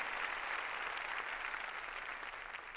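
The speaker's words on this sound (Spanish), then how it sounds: "Dele palmas al Rey de la Gloria." A church congregation clapping during a Sunday service, producing dense, continuous applause from many hands that holds steady and loud throughout before easing slightly at the end.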